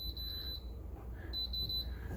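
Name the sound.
quieter beep of a Gourmia air fryer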